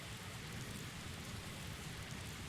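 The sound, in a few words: rain sounds from a podcast radio play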